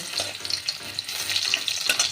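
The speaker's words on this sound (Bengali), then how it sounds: "এবার দিয়ে দিলাম চার পাঁচ কোয়া রসুন" Four or five garlic cloves frying in hot oil with sugar already caramelized in the pan for a meat ghugni, giving a steady close sizzle and crackle with no voices.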